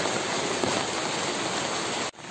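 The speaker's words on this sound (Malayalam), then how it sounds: "നല്ല മഴയാണ്" Heavy rain pours down during a flood, a dense continuous roar of water that cuts off abruptly near the end before resuming more faintly.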